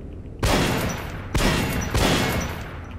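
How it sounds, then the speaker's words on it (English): Gunfire aimed at a lock in Metro 2033: three sharp, loud shots about a second apart, each followed by a dense, reverberant tail. "I really thought that's what I wanted me to do, was shoot that lock off"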